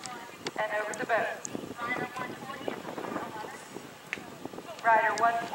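Hooves of a 15-year-old Dutch warmblood horse at a jumper derby, with neighing and clip-clop mixed under an announcer's voice and crowd talk, steady and moderately near.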